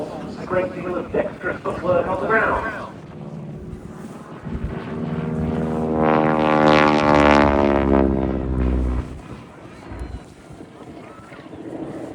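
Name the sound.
propeller trainer aeroplane flying at air show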